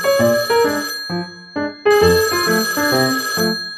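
A telephone rings in repeated bursts of bright, bell-like tones. There is a short pause partway through, then the ringing resumes. It is loud and close, with no voices.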